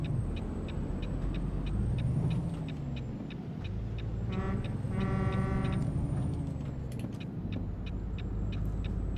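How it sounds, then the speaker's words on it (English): Truck engine drones steadily in American Truck Simulator, with a modded Scania V8 note, while sharp air brake hisses burst out briefly mid-clip over a repeating ticking pattern. "I'm also getting some air brakes as well."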